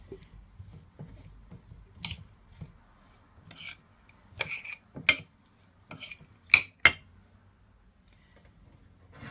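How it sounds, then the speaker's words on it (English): Soy sauce is stirred into a prawn filling in a pan, with soft wet squishing and a few sharp spoon clinks against the pan, sporadic and close. "I'm gonna add some soy sauce in there, guys, just for colored. You can add browning if you want, whatever you have. And I'm just gonna stir it."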